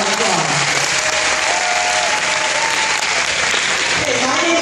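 A graduation ceremony crowd gives the graduates a long, loud, dense round of applause that holds steady throughout, with faint voices mixed into the clapping.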